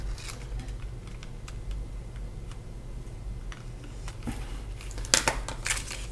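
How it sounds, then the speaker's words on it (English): Origami paper folded into a Kawasaki rose, heard as soft crinkling and creasing with sharper crisp rustles toward the end. "So you're going to fold it backwards like that and just reinforce that fold there"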